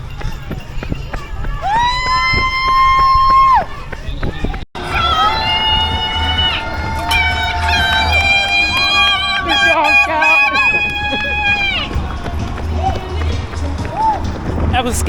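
A supporter named Scout cheers a runner at the Paine to Pain trail half marathon with loud, high-pitched whoops and excited shouts in bursts, close by, over outdoor noise with a brief break partway through.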